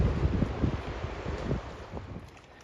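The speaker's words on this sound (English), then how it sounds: "Listen to the sound of those waves hit the shore" Waves wash against the shore under heavy wind rumble, a steady roaring surge that eases slightly toward the end.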